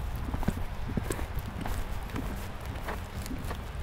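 A horse walks on arena footing, its hooves giving a steady, fairly soft clip-clop at moderate distance, with faint background noise and no clear talk over it.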